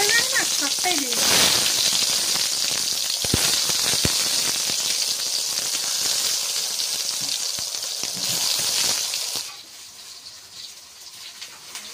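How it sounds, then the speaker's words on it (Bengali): Eggplant slices slid into hot oil raise a loud, dense crackling sizzle that carries on for several seconds before dropping abruptly to a quieter simmer near the end. "তো তেলটা গরম হয়ে গিয়েছে, এবার আস্তে আস্তে কিছুটা বেগুন দিয়ে দেবো।"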